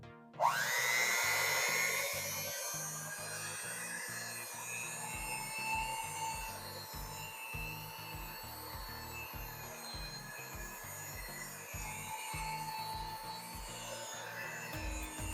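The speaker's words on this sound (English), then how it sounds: "Or you can go ahead and do an electric whisk, which I have right here." An electric whisk starts with a rising whine, then settles into a steady buzzing hum as it mixes bread pudding batter for about fifteen seconds, close and even, with no talk.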